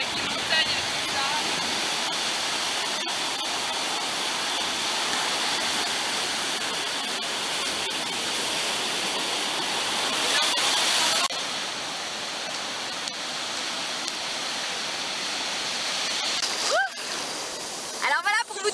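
Heavy, continuous roar of Pacific Ocean surf breaking on a Costa Rica beach, loud and close, a steady wash of water with a brief swell near the end.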